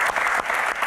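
A short burst of applause from a small audience at a casual Q&A session, dense clapping filling the whole moment.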